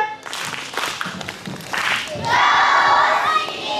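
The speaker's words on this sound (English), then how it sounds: "So let's give them a husky cheer." Schoolchildren at a morning meeting give a class a cheer, a short burst of mixed shouting and clapping that swells into a loud sustained group yell.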